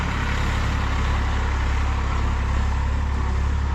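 Newly bought tractor engine running in a village farm setting, a loud, steady low rumble that drones on without a break and with no one talking.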